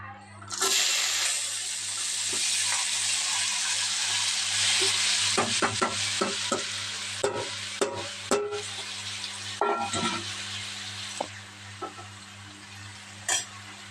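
Sliced onions, green chillies and tomatoes fry in a pan for an egg curry, a loud steady sizzle followed by clattering stirring strokes and scrapes, close up, with no voices.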